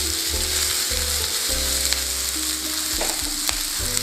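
Onions fry over high flame for egg manchurian, a loud, dense and continuous sizzle close up, with stirring scrapes and clinks layered on top and no talking.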